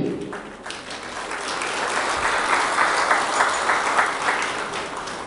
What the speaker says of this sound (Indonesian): Mari kita sorak-sorai buat Tuhan untuk event yang luar biasa ini